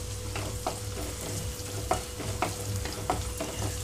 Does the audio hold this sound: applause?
no